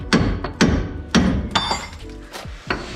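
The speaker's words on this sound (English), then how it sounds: "I'm gonna tap it with a hammer so it kind of just wedges that leaf spring and axle apart." A hammer taps a pry bar wedged between the leaf spring and axle of a 1997-2004 Dodge Dakota during a suspension lift install, giving several sharp metallic knocks spaced about half a second apart, close and clear.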